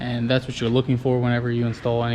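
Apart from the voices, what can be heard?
None of the usual background noises is heard.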